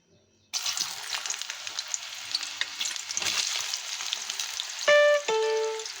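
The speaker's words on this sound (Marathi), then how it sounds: "चला तर आता हे केळीचे तुकडे आपण हलकेसे गोल्डन होईपर्यंत तळून घेऊया." Raw banana pieces are slipped into hot oil in a kadhai and fry with a loud, steady sizzle that starts abruptly after a moment of silence, then a short electronic tone sounds near the end.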